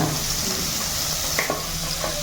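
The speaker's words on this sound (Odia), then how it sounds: "ଦେଖନ୍ତୁ କ୍ୟାପ୍ସିକମ୍ ଆଉ ଇଏକୁ ପିଆଜ ଭଜା ହେଉଛି।" Onion and capsicum frying in a pan with cumin and green chilli, a steady close sizzle with a few soft stirring clicks and no voices.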